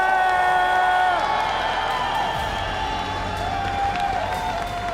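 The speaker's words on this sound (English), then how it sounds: "You out there are the wildest crowd we have ever seen." Live esports crowd at the Clash Royale League World Finals 2025 cheering, whooping and applauding loudly and continuously throughout, a dense arena roar with a voice over the PA.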